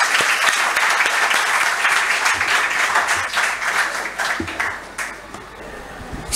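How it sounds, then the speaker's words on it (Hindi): A large auditorium audience at a college induction program breaks into loud, sustained applause, dense clapping filling the space before easing slightly toward the end. "एक राष्ट्रीय स्तर के कवि के लिए उसी तरह की जोरदार तालियां"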